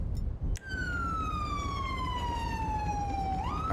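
A police motorcycle siren in Grand Theft Auto V sounds as a single steady, loud wail that slowly falls in pitch, then rises sharply near the end over constant engine and road noise.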